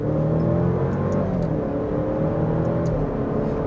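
An Alfa Romeo Giulia's engine drones continuously from close by, its revs climbing slightly in a smooth, even hum with faint whirring on top and no voices.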